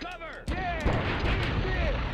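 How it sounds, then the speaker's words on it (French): A grenade explodes in the video game Die Hard Trilogy: a loud, booming blast breaks in after a brief tonal game sound, followed by a rumbling, sustained roar. "ah merde, putain, j'ai balancé une grenade."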